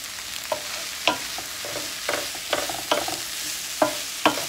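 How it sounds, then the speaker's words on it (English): Zucchini and bell peppers being stirred in a pan, with a quiet sizzle beneath regular scraping and knocking strokes of the utensil. "I'm going to stir it."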